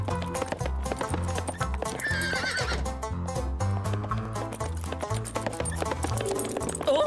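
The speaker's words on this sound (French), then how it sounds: "Mais qu'est-ce qu'il fait, ce canasson?" A horse whinnies over busy, steady music, with clip-clopping hooves woven through the dense backing track.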